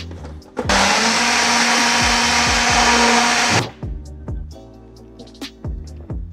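A kitchen blender whirs loudly and steadily for about three seconds, blending oat flakes, honey and peanut butter into a smoothie, then cuts off, leaving small clatters and knocks.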